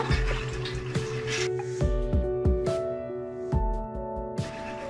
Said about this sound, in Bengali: এভাবে জলটাকে ঝরিয়ে নেব।